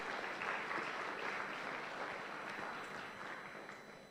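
Youth summit audience clapping for themselves, a faint, distant, continuous patter of many hands that slowly tapers off.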